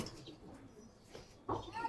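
Pigeons in a rooftop loft holding mostly young birds and one adult give soft, low coos, faint at first and then a louder burst near the end, with some background noise.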